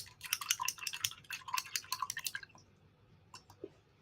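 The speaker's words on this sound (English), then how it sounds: "I'm going to wash my brush." Paintbrush being washed in a water container while painting a sunflower and flag on a canvas tote, with quick splashing and dripping swishes in close bursts that fade into a few faint taps.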